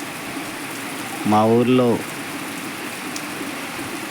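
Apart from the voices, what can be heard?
heavy rain falling at night in a village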